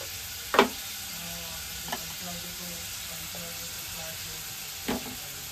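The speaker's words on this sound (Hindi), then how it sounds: "देखिए प्याज अच्छी तले जा रही" Onions frying in a pan for an Andhra-style egg curry, a steady hissing sizzle with three sharp clicks of a utensil spaced apart.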